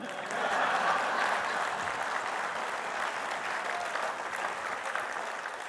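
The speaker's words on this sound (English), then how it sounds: "Applause line" Audience applause at an education summit with the California Community Colleges chancellor, loud and sustained clapping from a large crowd that swells after a brief start and holds steady throughout.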